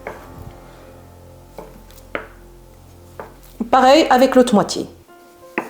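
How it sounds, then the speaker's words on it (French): A knife cuts mozzarella on a board, halving it and slicing it into strips: several crisp, separate knocks spaced a second or so apart, with a person talking. "Je vais la couper ici en deux. Et maintenant, je vais faire des languettes."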